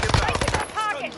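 A quick burst of rapid automatic fire in the Call of Duty Warzone map Rebirth Island, loud and close for about half a second, followed by a short electronic tone as the shooting stops.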